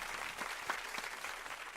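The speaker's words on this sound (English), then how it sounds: "Let's have a little round of applause for everyone there" A studio audience applauds a fitness and dance show's guests, a steady wash of clapping at moderate level with a few sharper claps standing out, continuous throughout.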